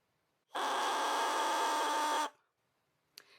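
A single loud, buzzy bassoon reed crow holds steady for under two seconds, then cuts off, followed by a short faint click.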